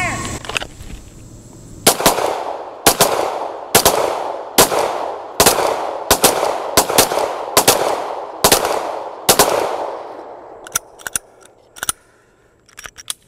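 Ten pistol shots fired from the holster in a timed drill at a range. The loud, close cracks come in a steady rhythm a little under a second apart, followed by fainter scattered shots.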